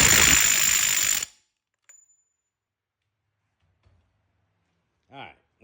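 A cordless impact wrench retorques a wheel axle nut with a suspected defective wheel bearing, giving one loud, dense burst of hammering for about a second up close, followed by quiet with faint clicks and a short voiced sound near the end.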